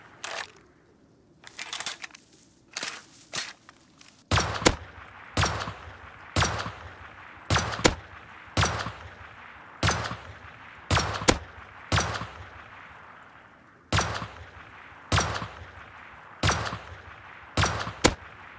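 Silenced gunshots with bullets striking the ground in the survival game Rust: a steady series of sharp, dull cracks roughly every second, fairly close and without talk.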